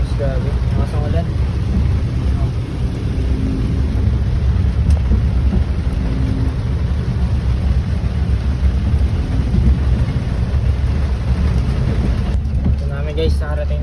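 Heavy rain pours steadily onto a long metal roof, a dense continuous roar with low rumbling like distant thunder underneath and a few faint voices near the end.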